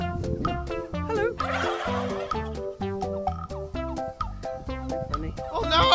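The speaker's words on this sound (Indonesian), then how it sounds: "ini burung kalkun" A turkey gobbles repeatedly in rapid rattling bursts, with a brief noisy flutter partway through, close and fairly loud.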